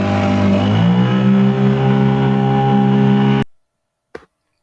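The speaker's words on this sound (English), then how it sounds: "had the engine running flat out" A boat engine running flat out on a coastal passage, a loud, steady mechanical drone with a rising harmonic whine that cuts off abruptly, followed by silence and a brief knock.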